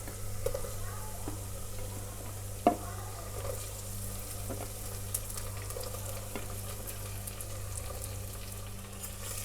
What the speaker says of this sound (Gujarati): હવે સમારેલા રીંગણ એડ કરીશું।